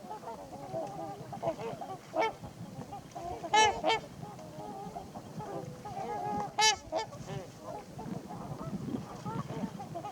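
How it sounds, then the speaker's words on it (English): Mallard ducks call with several loud, nasal honking quacks scattered over a background of softer bird chatter outdoors. "Mallards are perhaps the most familiar ducks in the world."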